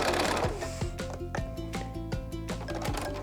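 A sewing machine stitches strip sets of quilting fabric with a fast, steady mechanical chatter and rhythmic needle thumps, close and loud throughout, with no voices.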